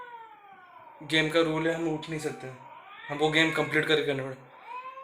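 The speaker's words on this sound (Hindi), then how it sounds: "बाहर से भी बिल्ली का रोने का साउंड आ रहा है" Cat wailing outside a room in the middle of the night, during a 3 AM Ouija board challenge. Drawn-out harmonic cries come in two long bursts, with people talking over them.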